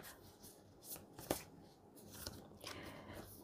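Oracle cards are shuffled by hand, a faint, soft riffling and flicking with a few crisp snaps, close and steady, with no talk.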